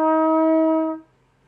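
A trumpet plays a single sustained, rich tone lasting just under a second, loud and close, ringing out alone before fading into quiet; the passage is the opening two measures of Good Night Ladies, with the second note tied rather than tongued.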